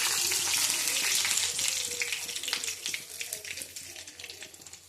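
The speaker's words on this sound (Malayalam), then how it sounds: "കടുകിട്ട് ഉലുവയിട്ട് വെളുത്തുള്ളി ഇടുവാണ്." Mustard seeds, fenugreek and garlic hit hot oil for a star fruit pickle, a loud close sizzle that settles into crackling, popping spatter.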